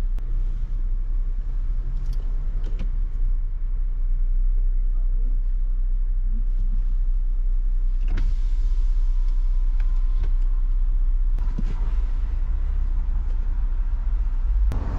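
A car reverses and edges into a small parking space, its engine a steady low rumble close by throughout, with a few faint knocks and clicks over the hum.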